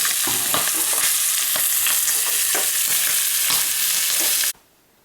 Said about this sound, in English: Once the bacon's done in the frying pan, we'll do a few eggs.